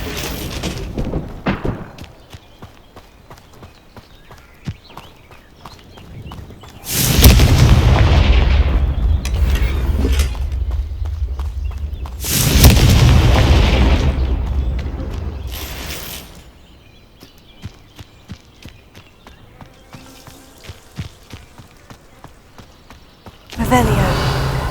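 Explosive spell blasts in the fantasy game Hogwarts Legacy, heavy booming bursts that swell and fade in several long waves between quieter stretches of game ambience and faint voices.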